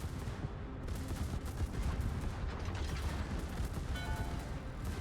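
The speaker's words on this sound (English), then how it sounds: "That was the Rupprecht shooting at you from south of that island." Guns firing in a World of Warships naval battle, attributed to the German Tier 9 battleship Rupprecht: rumbling, overlapping salvos and blasts rolling on continuously at a moderate, somewhat distant level.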